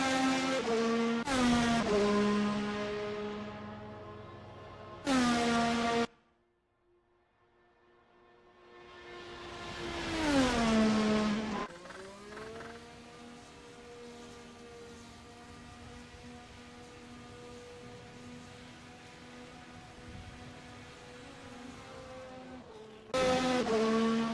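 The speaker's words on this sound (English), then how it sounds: "Love the way these cars sound." VRC Formula 25 race car engines scream past one after another at Mugello, pitch rising and falling as they approach and recede, with a short quiet gap between passes.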